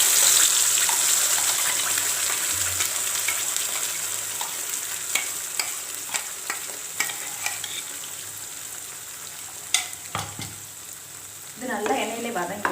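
Ground masala fries in oil for a mushroom gravy with a constant soft sizzle, broken by scattered clinks and taps of a spoon stirring the pan, ending in a brief louder clatter.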